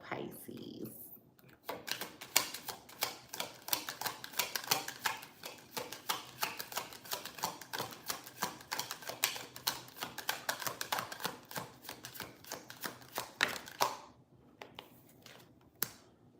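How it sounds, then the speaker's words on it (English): A deck of tarot cards is shuffled and cut close up, giving dense, rapid bursts of crisp riffling clicks and slaps that continue for about fourteen seconds before trailing off into a few isolated taps. "I'm going to shuffle it one more time. I'm going to cut the deck."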